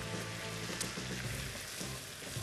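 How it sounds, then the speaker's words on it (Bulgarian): Chopped speck bacon sizzles steadily in a pan, a soft, even crackle and hiss of frying fat with small pops, close and fairly quiet, with no talking. "Запържваме и него за една минутка-две."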